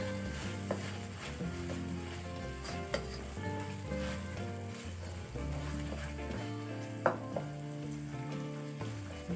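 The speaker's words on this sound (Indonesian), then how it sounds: "Tumis kembali sampai bumbu benar-benar matang." Spice paste with bay leaves, galangal and lime leaves sautéing in a pan for sambal goreng kentang, a steady soft sizzle with occasional stirring clicks and no talking.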